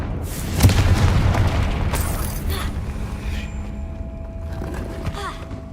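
A Confringo fire spell in the Hogwarts Legacy video game bursts in a sharp, booming blast early on, then fades into a rumbling game soundscape that carries on underneath.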